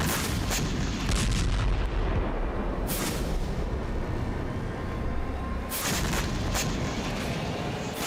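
Heavy booms and blasts from explosions across several areas of Crimea at night roll continuously, with sharper bursts around a rumbling, crackling background; loud and sustained, like distant artillery, no voices.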